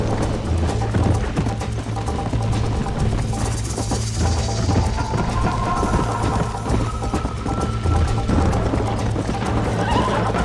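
A horse galloping in the video game Red Dead Redemption on PC: a fast, steady clip-clop of hooves with a low rumble and rattling tack, loud and continuous throughout.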